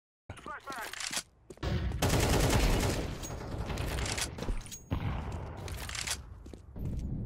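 Rapid bursts of automatic gunfire in a Counter-Strike match rattle loudly in quick succession, with short pauses between volleys and faint footsteps.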